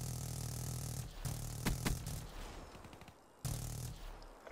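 Gunfire in a first-person shooter video game, a few sharp close shots and a short burst over a steady low game rumble, with a pause of near quiet before the background noise returns.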